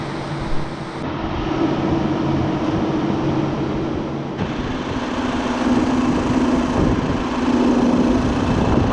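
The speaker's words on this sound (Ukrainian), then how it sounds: "дуже часто працює вентилятор охолодження" Car engine cooling fan running steadily, a continuous whirring drone with a constant low hum, loud and unbroken throughout with no talk.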